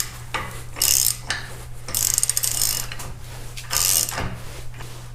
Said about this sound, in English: But you didn't know I already have this giant ass wrench.